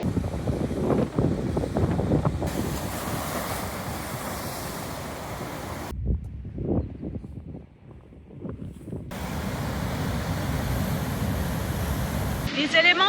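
Strong wind buffets the microphone on the southernmost coast of Greece, a rough roaring rush with surf beneath, steady and loud with brief drops, no speech heard.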